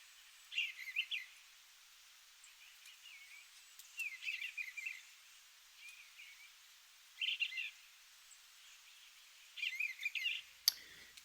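Bluebird hatchlings inside a nest box give thin, high chirps in about five short bursts separated by quiet pauses, faint and close, ending with a sharp click.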